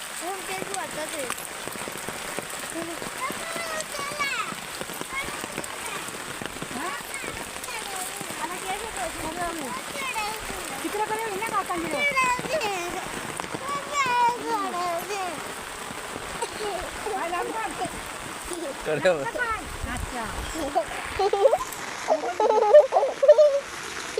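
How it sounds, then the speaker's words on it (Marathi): Rain falls steadily on flooded rice paddies, a soft continuous patter and splash close by, with people talking over it throughout. "आता पाऊस आलाय. पाऊस कसा शेतात पाण्यात."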